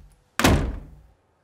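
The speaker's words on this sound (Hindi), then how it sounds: "बंद करो दरवाजा।" A door slams shut with a single sharp, fairly close thunk that quickly fades, in an otherwise quiet room.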